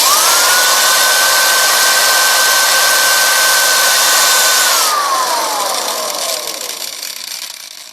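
A power drill bit cuts grooves into a homemade rocket nozzle, a loud steady high whine held for several seconds, then the motor winds down with a falling pitch as it is switched off, close and alone.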